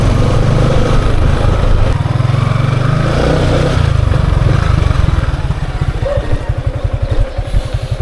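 Motorcycle engine running loud and close with a steady mid-low drone, settling into a rapid, even putting rhythm toward the end, with some clatter on top.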